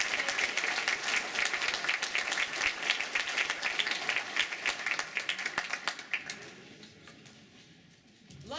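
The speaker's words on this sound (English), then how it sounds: "How about another round of applause?" An audience at a reunion founders' panel breaks into sustained applause, a dense patter of many hands that gradually thins and fades toward the end, heard alone without talking.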